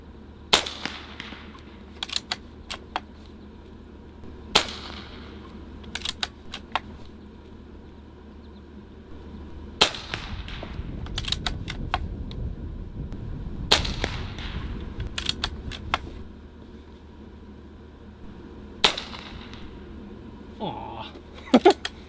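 Barra 250z air rifle firing pellets at soda cans downrange in a backyard, a few sharp isolated cracks spaced seconds apart outdoors, with a low rumble of wind between shots.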